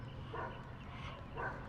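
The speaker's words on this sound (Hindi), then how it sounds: "यहाँ कुत्ता भौंक रहा है इतने प्यार से" A dog barks twice, faint and distant, outdoors near a river with vehicles passing. The two short barks rise above a low, steady background rumble.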